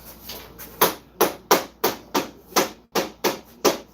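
A small mallet taps a rack flush, about a dozen sharp, evenly spaced knocks close by, loud and clean with short decays.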